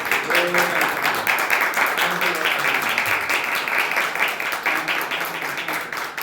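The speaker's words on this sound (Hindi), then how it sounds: "हालेलुया, ताली बजा के प्रभु के नाम की तारीफ।" A church congregation claps steadily and densely in praise throughout, loud and continuous, with a voice faintly audible beneath the applause.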